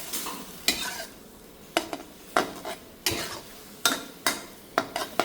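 Pad Thai noodles stirred and scraped in a hot pan, a utensil knocking against the metal in repeated bursts roughly every half second over a steady sizzle of frying; no voices.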